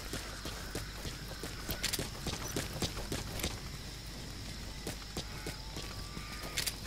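Horse hooves in the video game Metal Gear Solid V clop in a steady walking rhythm, close and fairly clear, over a constant game background hum with occasional faint tonal cues.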